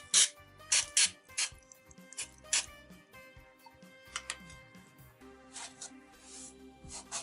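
Creaks and ticks from the metal joints of an office chair, a series of short, sharp squeaks and clicks in an irregular rhythm, close and fairly quiet, with no talking.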